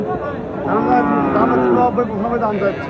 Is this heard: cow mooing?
yes